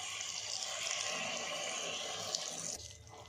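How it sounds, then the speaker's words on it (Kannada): Water poured into a cooking pot of spiced vegetables: a steady, close splashing stream lasting about three seconds before tapering off. "ಅರ್ಧ ಗ್ಲಾಸಷ್ಟು ನೀರು ಹಾಕ್ತಾಯಿದ್ದೀನಿ."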